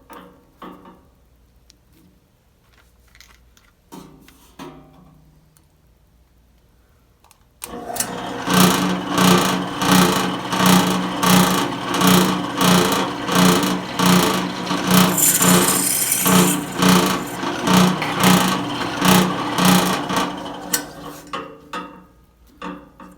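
A drill turns the bit from a 5mm helicoil kit into a Shindaiwa HT2510 hedge trimmer, close and loud. After a quiet start it bursts into a steady, pulsing whine for about thirteen seconds, then cuts off abruptly.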